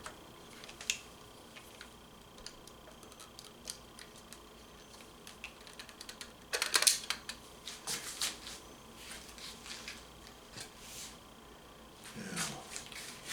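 A Mamiya M645 1000S viewfinder is folded, closed and taken off, producing a few faint mechanical clicks and snaps over a quiet room, with one louder cluster midway and another near the end.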